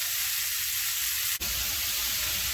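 A Creole crab stuffed sirloin sears in a hot pan, giving a steady, loud broadband sizzle with one brief dropout partway through, and no talk.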